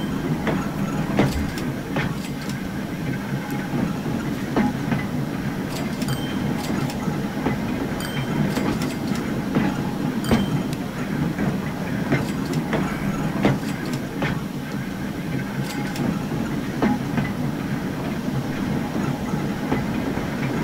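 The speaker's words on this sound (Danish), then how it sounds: "Så kan man køre med sporvogn fra den ene by til den anden." A tram runs along its rails from one town to the next at modest speed, a steady rolling rumble threaded with rhythmic clicks and metallic ticks throughout.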